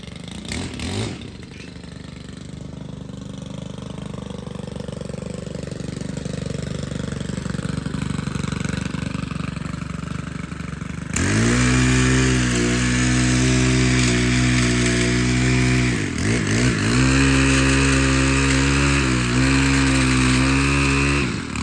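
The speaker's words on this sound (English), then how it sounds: "much of the work that I did on this tree was actually with a hedge trimmer" Powered hedge trimmer used while pruning a tree, running at a low idle at first, then a loud, close motor roar with uneven revving and dips as it cuts, with no voices.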